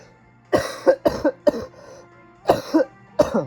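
Someone coughs repeatedly nearby, two harsh bursts, a single one, then two more, with short pauses between.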